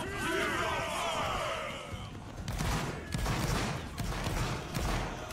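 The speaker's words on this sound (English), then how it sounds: "Everyone shoot right, everyone shoot right. Keep shooting right." Musket volley fire in a Napoleonic Wars battle game: a loud, rolling crackle of many shots that swells and fades in waves, with a voice calling out early on and crowd noise underneath.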